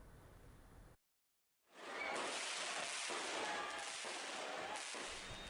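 New Year's Eve fireworks over the city of Medan make dense, continuous crackling and popping bursts, loud and sustained after a brief moment of silence.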